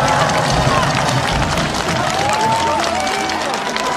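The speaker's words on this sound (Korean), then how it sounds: "고생하신 우리 젊은 경찰 관계자들께도 격려 박수 부탁드리겠습니다" A large outdoor crowd in Busan applauds and cheers for young police officers, with dense, continuous clapping and shouts mixed with crowd babble throughout.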